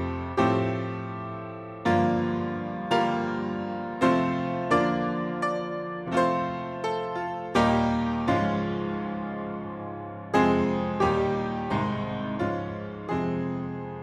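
The Spitfire Audio Mrs Mills Piano, heard through its close mic, plays a bright series of struck chords with sharp attacks and quick decays. It sounds alone, in a relaxed, uneven rhythm.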